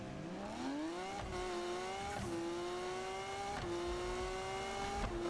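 A Lamborghini in the Need for Speed racing game revs hard, its engine climbing in pitch through repeated gear shifts, loud and continuous with no talk.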